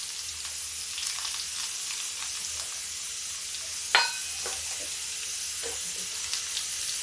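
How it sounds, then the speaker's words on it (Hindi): Tadka of ginger, mustard seeds and curry leaves crackling in hot oil in a pan for moong dal kadhi, a steady sizzle with sharp pops and spits, one louder crack near the middle, no talking. "तो ये देखिए तड़कने लगा है"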